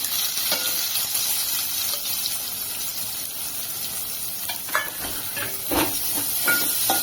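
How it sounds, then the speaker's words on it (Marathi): Onion fries in hot oil over a high flame for bombil masala, a continuous hissing sizzle with occasional louder crackles and spatter bursts, close by and unaccompanied by talk. "तर आता हे तेल गरम झालेलं आहे याच्यामध्ये मी सगळ्यात आधी कांदा घालते"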